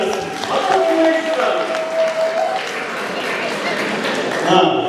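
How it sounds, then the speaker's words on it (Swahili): Applause for the guest of honour at a school gathering about a girls' dormitory fence, sustained crowd clapping running steadily throughout, with a speaking voice carrying over it. "Makofi mengi kwa mgeni rasmi."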